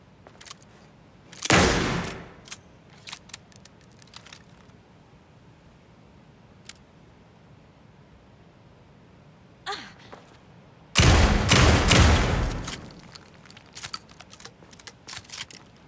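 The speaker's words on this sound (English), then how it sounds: "my trusty 12-gauge, fully automatic" Two loud bursts of rapid fully automatic 12-gauge shotgun fire in Alan Wake 2, a short volley near the start and a longer one later, separated by quiet with faint scattered clicks.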